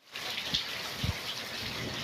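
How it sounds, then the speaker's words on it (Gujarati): Heavy rain pours steadily over farm fields, a dense continuous hiss close by, broken by a couple of low thuds. "આજે વરસાદ ખૂબ જ પડ્યો છે"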